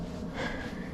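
Deep, heavy breathing with a slow drawn inhale and exhale, steady and close, during a hike on park trails.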